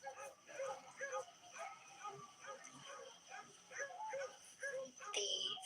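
Neighbors' dogs bark and yip repeatedly in the background of a quiet backyard by a fish pond, a steady run of moderately distant barks with a louder burst near the end.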